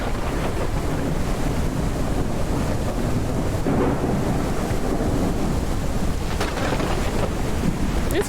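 Thunderstorm ambience in the video game Deer Journey: a constant loud roar of wind and rain-like noise with low rumbling swells, with no voices.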